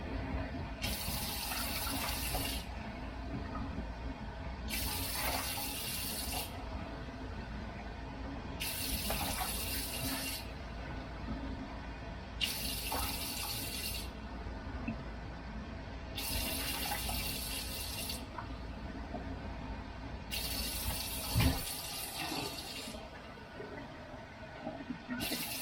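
Tap water runs steadily into a pot to make a pickling liquid with eight cups of water, a continuous splashing fill lasting about twenty-five seconds, with recurring brighter surges of hiss.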